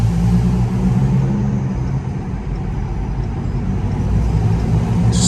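A Chrysler 300C engine rumbles steadily and loudly in a straight tunnel, a continuous low drone heard close up from inside the car with no distinct bursts.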